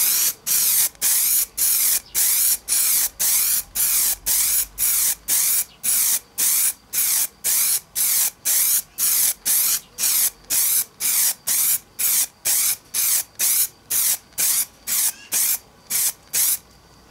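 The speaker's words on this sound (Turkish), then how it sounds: "Şimdi vernikleme işlemlerine başlıyorum." Aerosol spray can laying clear varnish onto a car body panel, sounding as a steady run of short, loud hissing bursts, each about half a second long with brief gaps between them, close and alone.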